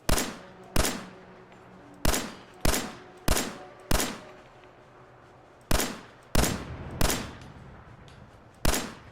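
Gunfire in Fallout 4: about a dozen single loud, sharp shots, each with a short decaying echo, spaced roughly a second or less apart with brief pauses between.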